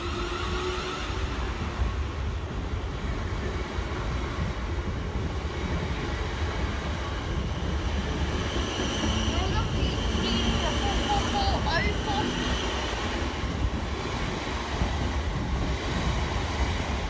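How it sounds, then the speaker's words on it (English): A Class 444 electric train departs a station on a service to London Waterloo, giving a steady loud rumble with rising whining motor tones through the middle, while a person talks over it. "about to depart now is 44012 on a service to London Waterloo"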